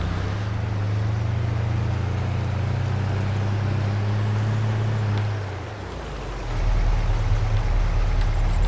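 A car engine runs in Farming Simulator 22, holding a steady low drone that drops off partway through and then returns at a lower pitch with wind-like rushing noise.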